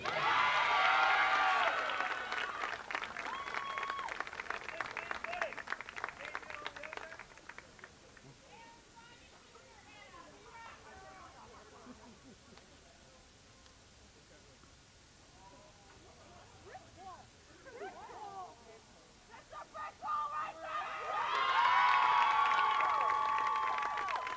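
Spectators at a 2023 ODAC field hockey championship applaud student athletes, a burst of clapping at the start fading to quieter crowd murmur, then a fresh loud round of applause near the end.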